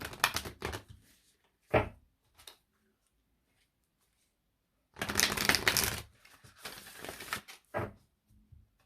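Short bursts of riffling cards being shuffled, a couple of quick flicks, a pause, then a longer run of riffles and bridging, close by.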